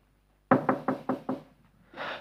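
Five firm, evenly spaced knocks on a wooden door during a parish stage play, close and resonant, followed by a brief pause and a voice starting to speak.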